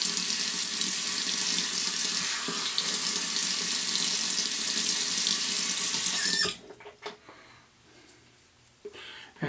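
A bathroom tap runs steadily into a sink for about six seconds while the face is wetted before a shave, then shuts off, leaving faint splashes and drips.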